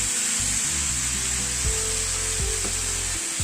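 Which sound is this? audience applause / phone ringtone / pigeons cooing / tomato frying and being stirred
tomato frying and being stirred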